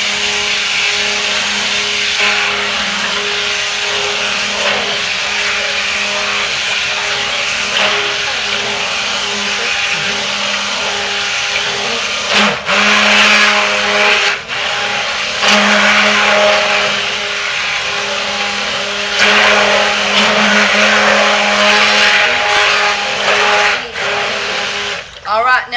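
A blender mixes lye water and oils for goat milk soap, a steady loud motor whir droning continuously with small pitch shifts while a person talks over it.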